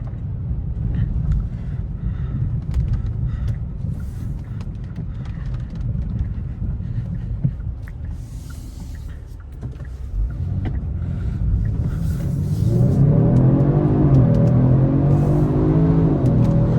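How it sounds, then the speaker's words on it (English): A 2024 Genesis G70 3.3T Sport Prestige AWD accelerates on a wet road, its engine note a steady low rumble under tyre hiss that swells and rises in pitch toward the end as the car gathers speed. "I'll see if I can do a little acceleration"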